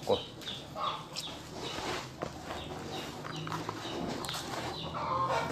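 Backyard chickens cluck and murmur while being fed a mash of rice leftovers and water, with soft scratching footsteps and a faint voice in the background.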